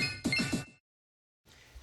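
The Pokémon Bronzor's cry from a video game: a short metallic, ringing electronic cry with a few quick pulsing clinks, followed by silence and a faint tail of noise.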